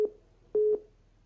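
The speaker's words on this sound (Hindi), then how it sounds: "चलिए एक बार फिर से फोन डिस्कनेक्ट हो गया, ये दुखद है।" A telephone busy signal sounds after a call on a Haryana news broadcast drops: a short tone, a pause, then a longer steady beep, clean and alone on the line.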